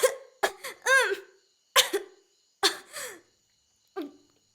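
A person coughs in a series of short, sharp bursts, several close together then isolated ones with pauses, close and fairly loud in a quiet room.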